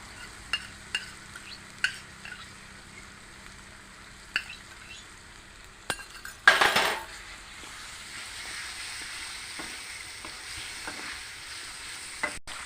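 Cumin-coriander paste is stirred and fried in a pan, producing a low continuous sizzle punctuated by sharp spatula taps and scrapes, with a loud hissing burst midway as the wet paste hits the hot oil.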